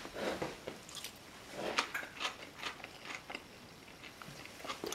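Someone bites and chews pancakes with crisp outsides and soft insides, producing close, quiet, irregular crunches and squishy mouth sounds over several seconds.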